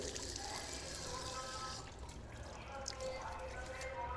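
Water splashes and runs over a person's arms during ritual ablution, a steady stream that eases off partway through, with someone talking over it.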